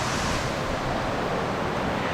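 Waterfall water on Koh Chang rushes down a stone staircase in a steady, dense wash of noise, close and unbroken, with no voices over it.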